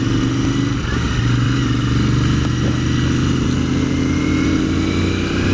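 A loud motorcycle engine drones steadily and close throughout while following a Ducati on the road to a bike meet at Bishops Cleeve, with no talking.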